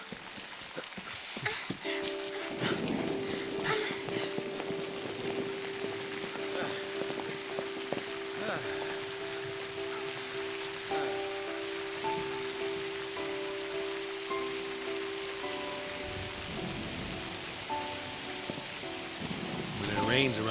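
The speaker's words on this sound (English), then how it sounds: "Now it's raining." Steady broadband rain falls in Final Fantasy XIII, a continuous hiss pattering under a sustained musical tone and faint game sounds, with talk present.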